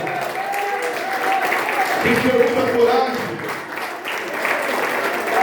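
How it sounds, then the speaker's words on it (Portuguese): Sustained crowd applause fills a church sermon hall as the congregation claps for the King of Glory, a steady wash of clapping continuing beneath a preacher's voice speaking over it. "Vamos dar uma salva de palmas ao Rei da Glória"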